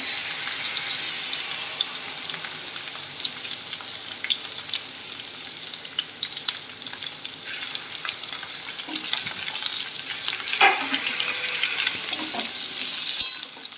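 Ridge gourd fries in hot oil for a vegetarian mixed vegetable dish, with a continuous close sizzle and intermittent clinks and scrapes of a stirring utensil.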